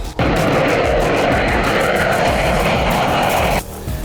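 An F/A-18 Hornet fighter jet roars loudly and steadily as it flies, a dense, close, broadband engine rush that cuts off sharply near the end, with no talk.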